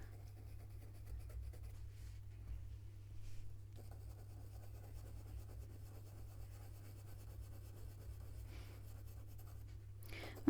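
Faber-Castell Polychromos coloured pencil scratching across paper in steady back-and-forth strokes, soft and close with a low constant hum underneath.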